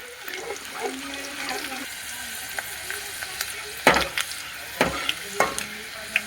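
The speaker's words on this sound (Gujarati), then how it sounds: "હવે આપણી લસણની કળી આપણે થોડીક તળાવવા દેવાની છે" Garlic cloves fry in hot oil with a close crackling sizzle, joined by the scrape and clatter of a spoon stirring the pan in sharp bursts.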